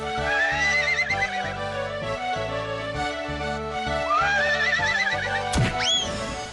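A white horse in an animated cartoon whinnies twice, rising, drawn-out neighs heard loudly over continuous background music, with a sharp sweeping effect near the end.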